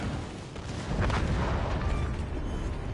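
Torpedo hits exploding against a warship in World of Warships, heavy rumbling blasts that swell into a sustained low roar, fairly distant and muffled.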